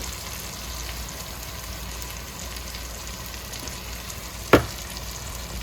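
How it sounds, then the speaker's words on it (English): Corn kernels sautéing in a pan with salt, giving a steady soft sizzle close by, with one sharp clack of a utensil near the end. "we're just going to saute this corn for about 5 minutes"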